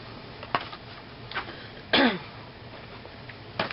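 A single sharp cough near the two-second mark, with a few faint throat-clearing sounds around it in an otherwise quiet room.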